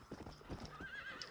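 Horse galloping in Red Dead Redemption: Undead Nightmare, a fast rhythmic clip-clop of hooves with a whinny rising over it, quiet and steady.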